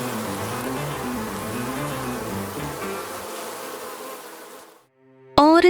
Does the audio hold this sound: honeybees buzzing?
yes